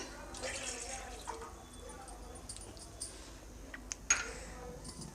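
About two glasses of water splash and trickle into a cooking pot in uneven pours, with a few small metallic clinks and a faint voice in the background.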